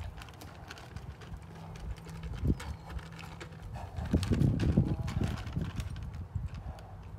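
A young horse lunged in circles gives soft, rhythmic hoofbeats on the ground, fairly faint and distant, with a few louder thuds midway and no talking.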